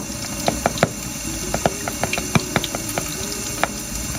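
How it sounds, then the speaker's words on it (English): Sharp, irregular pops as ionized water is set on fire and hydrogen reacts with the flame, a dozen or so crisp cracks over a constant background hiss. "the popping that you hear is actually the hydrogen which is reacting to the fire"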